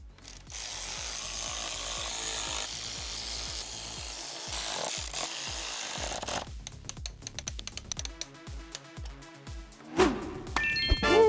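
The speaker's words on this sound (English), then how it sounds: "Once we have the nut tightened down from below, we can finish up with the rest of the nuts up top." A flexible ratchet tightens intake manifold nuts on a BMW E46 during a turbo engine build, rapid close clicking in quick bursts, then sparser ratchet strokes and metallic taps, with no speech.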